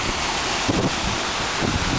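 A river rushes steadily through a natural basin along a coastal bush trail in Royal National Park, a broad continuous wash of moving water with no talk over it.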